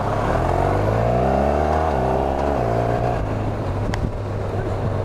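A car with a 1200 engine and a robotised sequential gearbox pulls away from a green light. The engine note climbs loudly and close by, dips at each automated gear change, then rises again.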